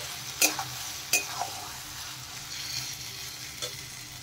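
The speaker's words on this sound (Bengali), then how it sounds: "দিয়ে দেখেন একটু নেড়ে দিচ্ছি মশলার সাথে।" Boiled urad dal being stirred into fried spice paste in a pan, a soft low sizzle broken by a few sharp spoon scrapes and taps against the metal.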